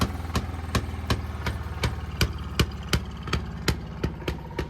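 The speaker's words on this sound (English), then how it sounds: "you give the motor car a couple of cranks here, and it should fire right off" A Fairmont pop car railway motor car engine runs alone, firing with sharp, evenly spaced single pops at a steady idle, close and loud.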